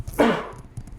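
A single close sneeze bursts out abruptly and loud, then fades quickly, with brief low murmur around it.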